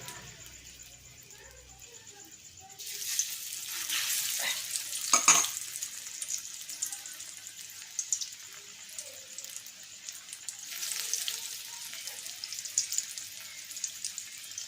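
Flat elephant foot yam fritters go into hot oil on a lowered flame, a quiet start giving way to a sharp sizzle that settles into steady crackling with bursts of bubbling.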